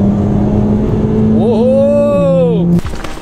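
A 2.0 engine in a VW Golf 5 GTI with a turbo problem holds a steady idle, then revs up and settles before cutting off abruptly, loud and close, with talk mixed in.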